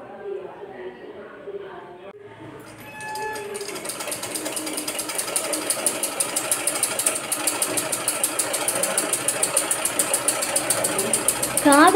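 A sewing machine starts up after quiet household sounds and stitches in a fast, steady mechanical rattle that grows louder and continues to the end, with talking in the background.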